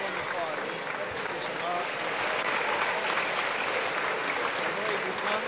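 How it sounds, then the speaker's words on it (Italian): Steady applause from an audience at a Lombardy honey awards event, the APIBrescia 2018 beekeeper prize-giving, a dense, even patter of many hands holding at a constant level throughout. "un applauso a me adesso"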